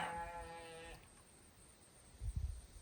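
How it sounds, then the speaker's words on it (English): A sheep bleats once, a clear wavering call up close, followed by quiet and a short burst of low thumping noise near the end. "Apparently the sheep's very excited about it too."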